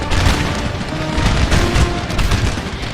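Massed musket volleys crackle and boom continuously in a Napoleonic battle in the video game Napoleon Total War, a dense, loud, sustained fusillade of overlapping gunfire with no talking.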